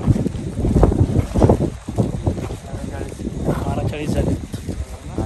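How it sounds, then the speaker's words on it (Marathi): Strong wind buffets the microphone on an open hillside during a midday climb up the stone steps to the Girnar summit, a loud, continuous roar with gusts rising and falling throughout, with possible muffled voices in it. "वारा जोरात आहे."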